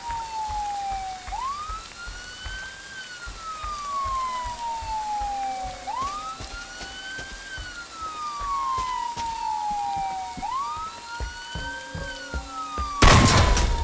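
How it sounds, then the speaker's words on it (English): A police car siren in the Friday the 13th video game wails in long, rising and slowly falling sweeps, three full cycles, loud and fairly close, ending with a sudden burst of harsh noise. "Police car?"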